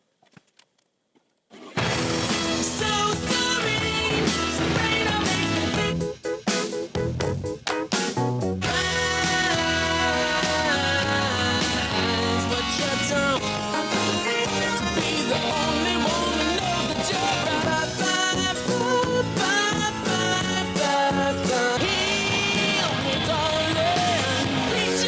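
Dense full-band rock music from an album, with layered voices and shouts. It comes in after a brief quiet start and stays loud and continuous to the end.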